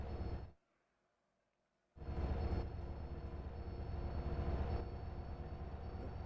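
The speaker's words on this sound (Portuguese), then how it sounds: "acho que vai ter que subir no trem" A train in the video game GTA San Andreas rumbles steadily after a brief silence, a loud, continuous low roar with a faint high whine running through it, no talking.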